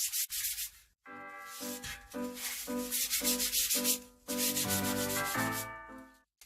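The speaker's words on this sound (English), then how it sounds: "because it had rust inside. I use some 180 grit" Rusty inside of a moped wheel rubbed by hand with 180 grit sandpaper, close and loud in rhythmic back-and-forth strokes after a short gap, with a ringing metallic tone under the rasping.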